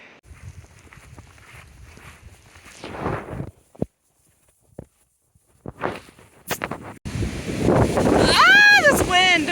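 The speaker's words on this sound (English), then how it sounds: "Ah, this wind!" Wind gusts across a trail on the Appalachian Trail, buffeting the microphone in a loud roar near the end, after quieter footsteps and a voice talking.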